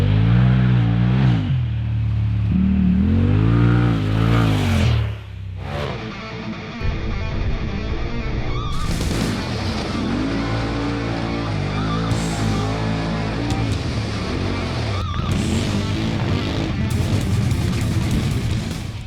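Polaris RZR XP Turbo fitted with a GGB turbo back exhaust revs hard, its engine note rising and falling in repeated loud sweeps, close and alone with no talking.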